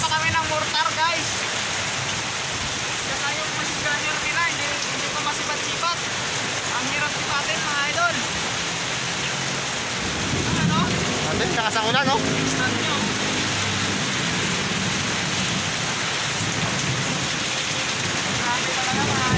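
Heavy rain with wind pours down on a Tagaytay road, a dense continuous roar of falling water that stays loud from start to finish while someone talks over it.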